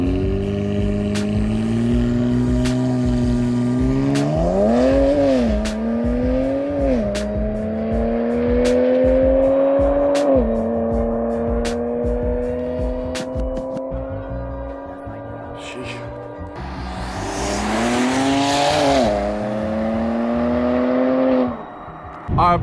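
A BMW E9x running an ethanol blend accelerates hard through several gears, its engine note climbing loudly in repeated sweeps with brief dips at each shift, then a final surge of roaring revs near the end.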